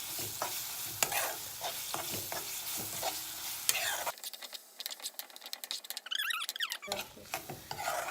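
Curry masala for Kerala fish curry sautés in oil in a pan. A spoon strokes it in repeated close scraping stirs over a soft sizzle, then comes a quieter stretch of light squeaky stirring before the scraping resumes.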